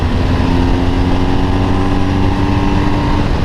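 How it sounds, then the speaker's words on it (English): A motorcycle engine roars loud and close as the bike accelerates out of a corner, a strong, sustained drone through the whole stretch. "Once I see the exit, now I can accelerate again."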